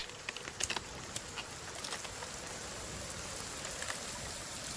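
Steady soft rain patter with scattered drips in the survival game The Forest, fairly quiet and continuous, no voices.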